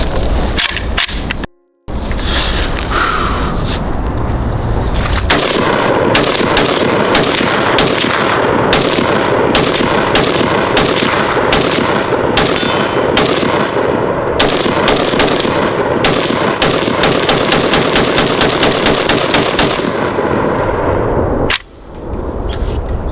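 Rapid bursts of rifle fire from a Zastava AK chambered in 5.56, loud and close, with repeated sharp shots and brief rapid strings running nearly continuously for about twenty seconds.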